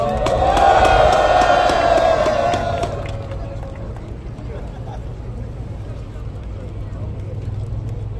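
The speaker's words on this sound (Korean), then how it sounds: "힘찬 박수로 맞아주시기 바랍니다" A crowd at an outdoor Korean farmers' rally against a presidential veto on a rice-price law bursts into loud cheering and applause. A voice carries over the start, then the noise settles into a lower, steady murmur.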